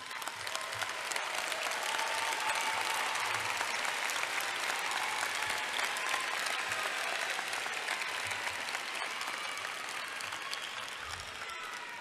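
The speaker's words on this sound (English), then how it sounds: "How about standing up, giving a round of applause for your support team?" A graduation audience gives long, steady applause for the graduates' support team, a dense wash of clapping from a large crowd that keeps an even level for about twelve seconds.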